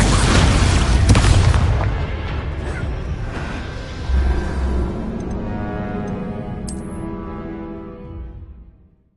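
An Expulso spell explosion in Hogwarts Legacy lands as a loud, close boom with a rumbling roar that slowly decays over several seconds, with a second lighter burst midway through the tail.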